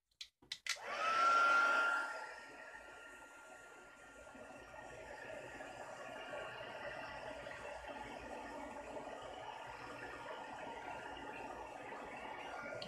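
A heat gun blows steadily as it sets embossing powder on a handmade card, a broad hiss that swells loud after a few brief clicks, then settles into a continuous even whoosh for the rest of the time.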